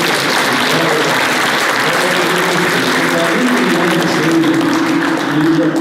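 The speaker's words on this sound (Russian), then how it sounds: "И мы, дайте вот аплодисменты," Sustained audience applause fills a hall at a formal ceremony marking a regional museum's centenary, steady and close throughout with dense clapping and no break.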